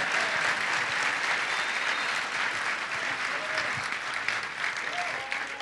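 Worship congregation applauding at a Christian gathering, steady dense clapping from a large crowd filling the whole stretch, loud and continuous with faint voices mixed in.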